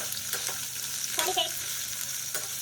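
Capsicum and soybeans fry in a pan with a constant crackling sizzle, broken by a few sharp stirring clicks and scrapes from a spatula close by.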